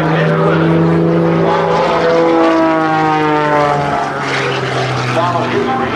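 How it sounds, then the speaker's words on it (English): A Pitts S2C fabric-covered aerobatic biplane flying at an airshow, its loud propeller engine droning with pitch shifting up and down as it maneuvers, while an announcer talks over it. "Ed Hamill flies his fabric-covered biplane, representing the Air Force Reserve, barnstorming his way across America"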